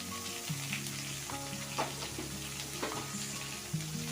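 Chopped onions and green chilies fry in a pan for a wheat flour adai breakfast, a soft, even sizzle with light stirring scrapes under faint tonal background music.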